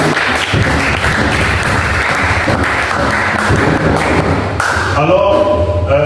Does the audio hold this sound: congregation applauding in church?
yes